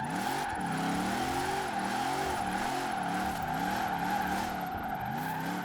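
A truck driven in Forza Horizon 4 holds a steady engine drone that rises and falls in repeated waves of revving, loud and continuous throughout.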